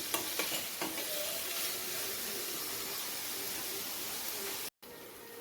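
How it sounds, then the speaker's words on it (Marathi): Onions and tomatoes for pav bhaji fry in a pan with a constant hissing sizzle and a few stirring clatters near the start, cut by a brief dropout before the frying resumes. "आणि टोमॅटोंना पण मऊ होईपर्यंत आपण शिजू देऊया"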